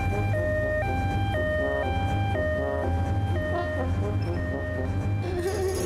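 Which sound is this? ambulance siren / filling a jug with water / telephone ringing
ambulance siren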